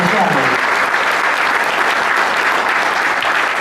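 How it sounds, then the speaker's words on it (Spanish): A lecture audience breaks into dense, sustained applause, loud and close, with many hands clapping at once for the whole stretch. "El aplauso es para los diputados que tienen el proyecto"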